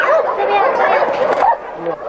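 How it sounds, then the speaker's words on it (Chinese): Stray dogs at a crowded mountain shelter in Xindian bark, yip and whimper up close, the excited calls overlapping with chattering voices throughout. "光是新店有这么一家流浪狗的收容站，看到就挤进了3000多只的流浪狗"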